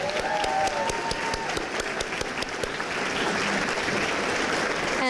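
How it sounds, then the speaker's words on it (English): Applause breaks out at a women's community awards evening, with sharp, distinct claps close by over a dense crowd clapping that thickens into a steady roar. "Please, a clap for all the amazing women that have been awarded tonight."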